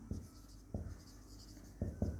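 Quick strokes of writing on a board during a physics lecture, four faint, short scratching marks in uneven rhythm against a quiet room.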